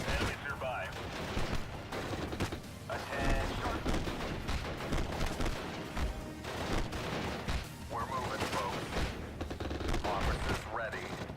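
Gunfire crackles through the World War II strategy game Steel Division: Normandy 44, with sustained, fairly loud bursts of rifle and machine-gun fire and occasional crashes continuing throughout.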